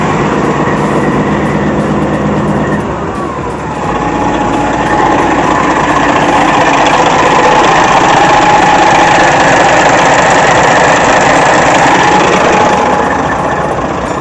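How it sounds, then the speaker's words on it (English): A 1995 Peterbilt 377 truck engine idles close by with a steady knocking rumble, and a thin, high-pitched metallic rattle ticks continuously above it. "Let me turn the idle down all the way."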